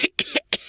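A narrator imitates a character's hacking cough with three quick, harsh bursts in under a second, close and dry, alone without other sound.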